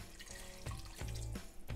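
Water pours into a pot of pasta and potatoes in one pot, making a steady, fairly quiet splashing and rushing with a few surges in flow.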